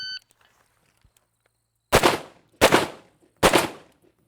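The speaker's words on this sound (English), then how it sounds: "Get that gun up fast, get on the optic, and burn it down." Three sharp, loud tactical rifle shots ring out at a steady pace, about 0.7 seconds apart, during a timed qualification drill at moving targets, each with a short echoing tail after a quiet lead-in.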